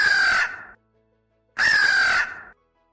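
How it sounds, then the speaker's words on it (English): Two loud, harsh crow caws, each lasting under a second, separated by a short silence, heard clearly and alone. "A crow caws."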